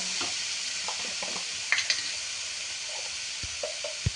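A brinjal bharit mixture being roasted and stirred in a hot pan, a steady sizzle and hiss under occasional scrapes and light taps of the spoon against the pan.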